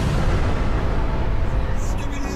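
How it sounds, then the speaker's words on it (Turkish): A loud, rumbling explosion roars through the whole moment, a dense sustained blast with no quiet gaps. "Bomba patladı."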